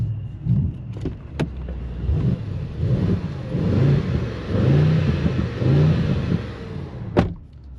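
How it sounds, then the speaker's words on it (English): A deep engine exhaust from a 2025 Mercedes-AMG GLE 63 S in race mode burbles and revs in several surging pulses, with sharp pops and crackles between, close and loud. "Listen to the exhaust sound, by the way."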